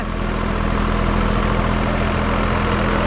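A Sonalika tractor engine runs steadily while driving a rotavator with new blades, a loud, continuous low drone with a constant hum and no breaks.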